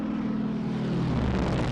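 A firefighting propeller aircraft flies over a valley, one of several planes making successive passes; a loud, steady engine roar fills the whole stretch, close and continuous, with no talking.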